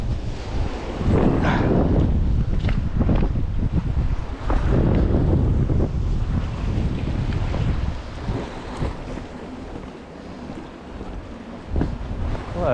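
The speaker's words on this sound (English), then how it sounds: "It's a shame about that wind." Strong wind buffets the microphone on a rocky coastline above snorkelling water, a loud continuous rumble with gusty swells and faint surf beneath, easing slightly toward the end.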